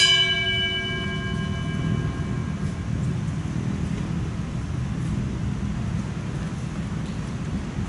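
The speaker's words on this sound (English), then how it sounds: "This ends the two bell ceremony." A ceremonial bell at an outdoor Veterans Day ceremony in a veterans cemetery, one clear ringing strike at the start that decays slowly over steady wind and ambient outdoor noise.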